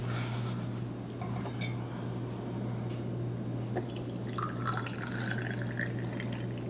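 Hot water trickles and drips onto water-absorbing crystals in a homemade humidifier, soft irregular splashes and pouring over a low steady hum, fairly faint and without talk.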